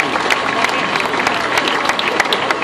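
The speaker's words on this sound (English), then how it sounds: "let's give a nice round of applause for all the women that ran here professionally" A crowd applauding steadily at a Fifth Avenue Mile race award ceremony, dense clapping filling the space with a few scattered sharper claps and faint cheers mixed in.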